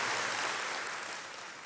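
A church congregation claps in a short burst of applause at a service. The clapping is moderately quiet and fades slightly toward the end.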